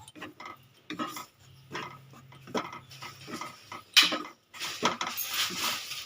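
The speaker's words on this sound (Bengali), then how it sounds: "সর্ষেটা দিয়ে আমি ভালো করে একটু নাড়াচাড়া করে নিয়েছি" Utensil scraping and clinking in a pan as mustard paste is stirred into a Bengali rui fish curry, with intermittent scrapes and taps at close range and no talking.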